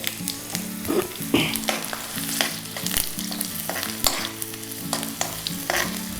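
Steady crackling sizzle of cumin seeds frying in hot ghee for a tempering, with occasional stirring scrapes, close and continuous with no voices.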